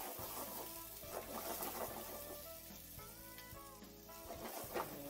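Thickly cut onions sizzle steadily in a hot pan for pork keema curry, a continuous close frying hiss with occasional stirring scrapes and no talk.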